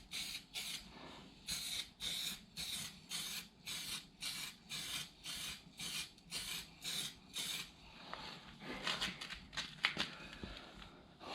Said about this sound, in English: then we'll just go ahead and spray.